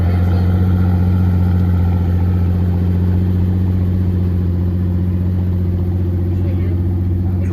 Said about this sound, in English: Driving his own personal Wyra to the coil event.